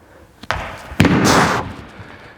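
Feet land hard on a floor during a single-leg plyometric jump drill for baseball players, two close thuds a half-second apart followed by a brief scuffing rush, near and fairly loud.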